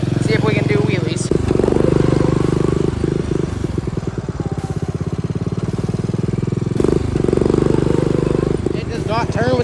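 A John Deere tractor engine chugs loudly and steadily close by, its rhythmic pulsing surging and dropping as the machine attempts wheelies under heavy weight, with brief pauses and clatter, and someone talking over the engine noise.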